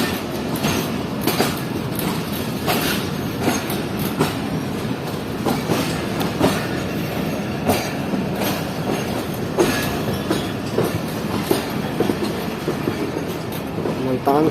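Shah Hussain Express passenger train rolling along the rails, a steady loud rumble with rhythmic clickety-clack wheel beats throughout, faint voices in the carriage.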